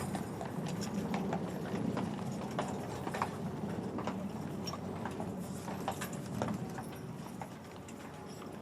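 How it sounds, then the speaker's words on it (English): Household Cavalry horses forming a captain's escort to a castle trot past with a dense, continuous clatter of many hooves on hard ground, moderately close and steady throughout. "the Guard of Honour formed by the Household Cavalry, who now form the King's escort up to the castle"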